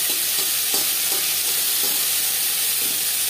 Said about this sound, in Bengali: সর্ষে যখন ফুটতে শুরু করে দেবে দিয়ে দেব চালটা।